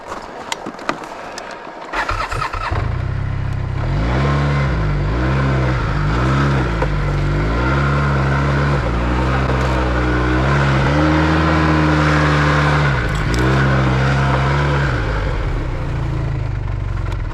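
Engine of a vehicle being driven around a broken-down Arctic Cat ZR600 snowmobile, revving in repeated rising and falling swells, loud and close, for most of the clip after a brief quieter start, with no talk.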